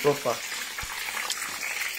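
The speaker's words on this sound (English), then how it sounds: "The noise you are hearing, don't worry, is the drop of mozzarella." Mozzarella dripping into a hot pan, giving a steady bright sizzle and crackle of frying through the clip, with a short spoken word near the start.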